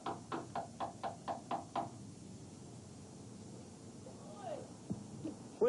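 Police knock on a door in a rapid run of about eight sharp raps, then the knocking stops and a quiet room tone with faint distant sounds follows.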